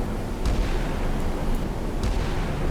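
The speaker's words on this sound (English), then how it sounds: "Look how many missiles the Ticonderoga and the Leahy can pump out" Heavy missile launches from the cruisers Ticonderoga and Leahy in a naval warfare game, a continuous roaring rumble with a few sharp bursts breaking through.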